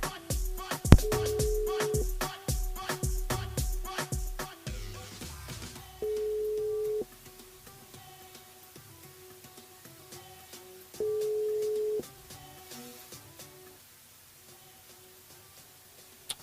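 Telephone call tones during a live radio broadcast, a steady beep repeating three times at about five-second intervals, each lasting about a second, over background music and busy studio sound.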